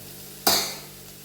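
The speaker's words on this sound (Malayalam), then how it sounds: "ഇതിലേക്ക് ഞാൻ തക്കാളി ഇട്ട് കൊടുക്കുകയാണ്" Chopped tomatoes drop into a pan of softened onions for a Kerala cauliflower side dish, setting off one sudden loud sizzle that slowly fades, with no talking.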